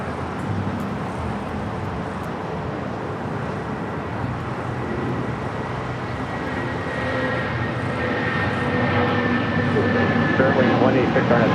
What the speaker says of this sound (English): looks like a United 757 300 heading to Denver. Flight 1374 now rolling down 25 right.